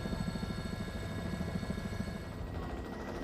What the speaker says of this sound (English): The only way out for some is by helicopter.